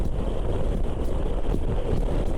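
Loud, gusty wind buffets the microphone inside a helmet on a 2022 Moto Guzzi V85TT motorcycle in a constant low roar with irregular surges, like riding at speed in open air on a very windy day.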